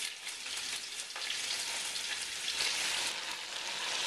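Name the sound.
chicken wings sizzling while browning in a pot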